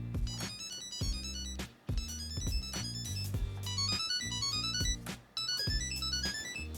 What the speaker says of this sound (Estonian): Võtad telefoni, Smart Thingsi alt otsid ülesse oma tagi ja tag hakkab laulma.